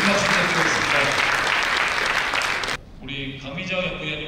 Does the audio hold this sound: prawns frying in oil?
no